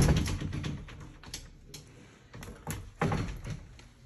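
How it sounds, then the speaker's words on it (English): Bifold closet doors in a regular closet are slid and folded, giving a series of soft knocks, rattles and thunks, quiet and close, with no talk. "With the bifold doors."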